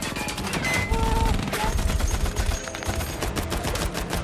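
Heavy gunfire in a war film tank battle, dense overlapping bursts of machine-gun fire and shots mixed with crashes and a thick low rumble, loud and continuous throughout.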